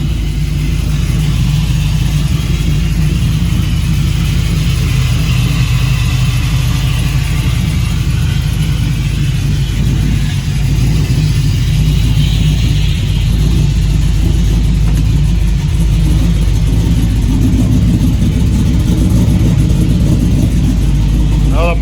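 A Chevrolet C1500 truck with an LS engine swap rumbles steadily through 3-inch exhaust mufflers, a loud, continuous low-end drone with slight rises in revs and voices talking over it.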